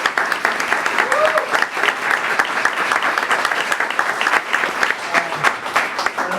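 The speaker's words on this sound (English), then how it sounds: "And we have one more round of applause for all." A school committee meeting audience gives a round of applause honoring students, steady dense clapping from a crowd filling the room throughout, with faint voices mixed in.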